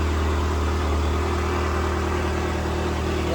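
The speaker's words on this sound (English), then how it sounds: "Sounds kind of like a car again." A Ferrari's steady, loud engine drone hums without pause, like a car idling nearby, with a constant low rumble throughout.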